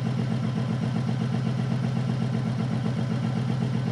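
Harley-Davidson engine idling with EITMS active and the rear cylinder not firing, a steady, close, loud low rumble with even pulsing throughout, no voices.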